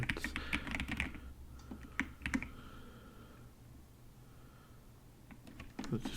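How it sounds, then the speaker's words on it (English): A password is typed on a computer keyboard in a quiet room, with quick soft key clicks in short bursts and a pause in the middle. "Let's just put my password in there."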